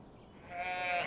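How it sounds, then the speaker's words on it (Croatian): A sheep bleats once in a drawn-out, wavering call that begins halfway through and grows louder, heard alone over quiet farmyard background. "Zameketale su ovce."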